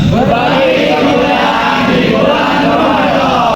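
A gathering of civil engineering students at a Ramadan religious talk in Cirebon shouts a group yell together, loud, dense, sustained voices filling the room throughout.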